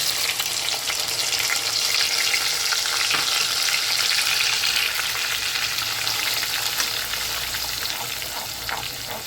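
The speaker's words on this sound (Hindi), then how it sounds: "अब हम इसमें डाल देंगे प्याज और हरी मिर्च का जो पेस्ट बना के रखा है ये डाल देंगे" Onion and green chili paste frying in hot oil for Lahori chole masala, heard as a loud, continuous, dense sizzle that stays steady throughout.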